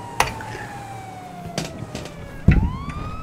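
Police car siren in a Granny escape game, a wailing tone sweeping slowly downward and then rising again, heard at moderate distance beneath engine noise and several sharp knocks.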